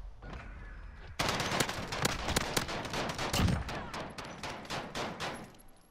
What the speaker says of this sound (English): I love this gun, it's probably my favorite AR